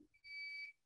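A deep fryer's electronic preheat signal: one sustained, clear, high-pitched beep lasting about half a second, loud and close, preceded by a brief soft noise.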